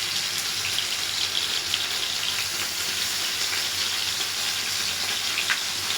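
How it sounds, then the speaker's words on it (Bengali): Homemade seekh kebabs fry in a pan with hot oil, giving a steady, dense sizzle and crackle that holds level throughout, close and unbroken by talk. "এবার লাস্টেরগুলো ভাজা হচ্ছে।"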